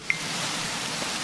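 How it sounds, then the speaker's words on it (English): Steady rain in the city-building game Universim, a continuous broadband hiss of falling water with one brief tick near the start and no talking. "Oh, it's raining. It's lovely."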